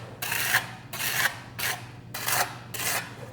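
A trowel scrapes over a fresh SkimStone concrete coating on a countertop, making five evenly spaced rasping strokes close up, each about half a second long, with nothing else heard.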